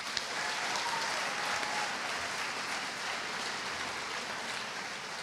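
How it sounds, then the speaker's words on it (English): Sustained audience applause in a large hall for Miss America 2017 at the Arkansas 4-H State O-Rama opening assembly, a steady wash of many hands clapping throughout without pauses. "another round of applause"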